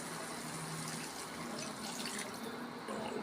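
A glass of water is poured into a cooking pot, giving a soft, steady splashing gush that runs without a break and stays faint.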